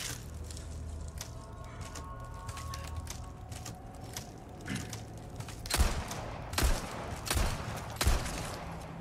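Gunfire in Resident Evil 4 during a tough boss fight: scattered muffled shots early, then four louder, sharp bursts in the second half over low ambient rumble.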